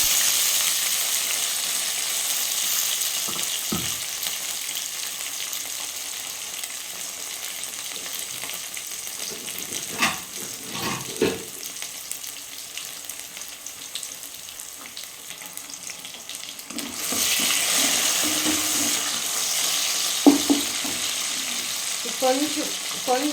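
Curry leaves frying in hot oil for Nellore fish curry, with a bright sizzling hiss that swells at the start and again later, broken by clinks and stirring noises in a home kitchen.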